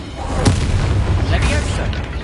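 Spell explosions from the video game Hogwarts Legacy burst in quick succession: a sharp blast near the start and booming, crackling impacts throughout, all loud and dense over a constant low rumble.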